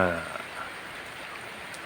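Heavy rain falls in a steady, dense hiss filling the whole clip at moderate loudness, with a brief voice at the very start.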